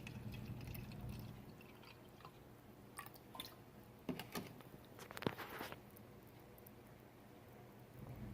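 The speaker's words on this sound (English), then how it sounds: "just pour in enough of this vinegar to completely submerge it" Vinegar poured into a cup over a small rusty tool, a faint trickle with scattered drips and splashes, a brief fuller pour near the middle, no talk.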